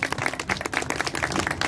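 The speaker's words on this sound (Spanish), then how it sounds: "brindémosles un fuerte aplauso" An audience at an award ceremony for Pénjamo's woman of the year applauds, a dense, continuous patter of many hands clapping loudly and close, with no talk over it.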